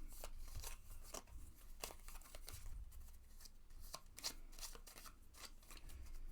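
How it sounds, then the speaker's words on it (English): A turn order card deck for the Aeons End board game being shuffled, a series of faint, quick riffling bursts and taps close by. "All right, now we shuffle the turn order deck."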